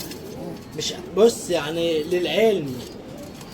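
Racing and ornamental homing pigeons in a loft coo in repeated, rolling low calls nearby while someone talks over them.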